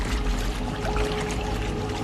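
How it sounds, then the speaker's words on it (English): A river rushes through an underground cave in a steady, full roar of flowing water, constant and close with no voices over it. "There's still a lot of flow in this water, which is a good sign."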